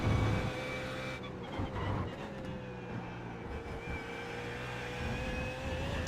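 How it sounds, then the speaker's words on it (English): A BMW Z4 GT3 with a V8 engine in a racing video game drones steadily at speed, a deep growling note with brief shifts in pitch, no talk over it. "the V8 singing in front of this car does sound very nice"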